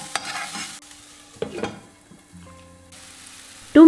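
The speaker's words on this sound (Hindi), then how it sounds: "टोमेटो, सॉल्ट, हल्दी, भेजीज और पाव भाजी मसाला ऐड करके इनको कुक होने देना है 2 मिनट्स के लिए" Tomatoes, vegetables, salt, turmeric and pav bhaji masala cooking in a pan, with a soft sizzle and spoon stirring in short bursts and quiet gaps, ending with a louder clatter.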